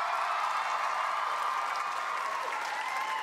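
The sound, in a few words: audience cheering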